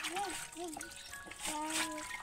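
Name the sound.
water splashing as a child is bathed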